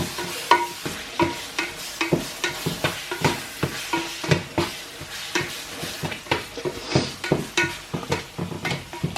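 Minced meat browns and sizzles in a pan for a cottage pie, under a steady frying hiss broken by rhythmic stirring scrapes roughly every half second, close and clear.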